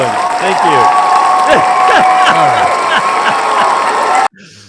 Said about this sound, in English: You got the applause.